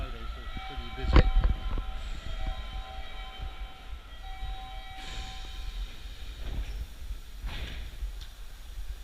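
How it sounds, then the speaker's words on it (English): A commuter train in Japan rumbles steadily, with a sharp clank near the start and rising whooshes and tonal whines from the carriage, alongside faint background voices. "This is the train, this is the last stop"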